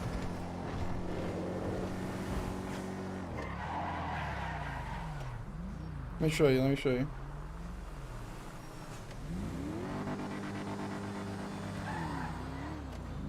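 A revving video game car engine with a high electric-sounding whine, pitch sweeping up and down through shifts, with a brief burst of tire noise midway and a voice speaking briefly.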